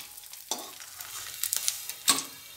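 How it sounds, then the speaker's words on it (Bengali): Small puti fish frying in oil for a spicy fish curry, heard as a soft, quiet sizzle broken by a few sharp clicks and scrapes from a utensil turning the fish. "এভাবে সব মাছগুলো আমি আস্তে আস্তে ভেজে নেব।"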